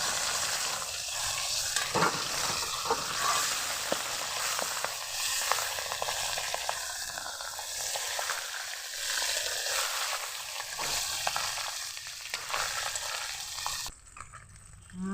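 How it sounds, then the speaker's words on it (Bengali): Pabda fish sizzle and crackle in hot mustard oil in a kadai, a loud, continuous frying hiss that runs for a long stretch and then cuts off abruptly near the end. "মাছগুলোকে শক্ত করে ভাজবো না, কড়া ভাজাও দেবো না, খুব নরম ভাজা করে ভেজে নেব"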